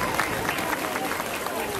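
A concert audience in Goris applauds, a steady dense patter of many hands clapping at even loudness throughout.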